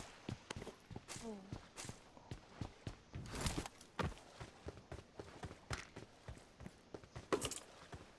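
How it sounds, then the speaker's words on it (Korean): Footsteps in the mobile battle royale game PUBG Mobile, a steady run of light rhythmic steps at moderate volume, with faint game ambience and occasional sharper clicks. "앞에 발소리 나는데?"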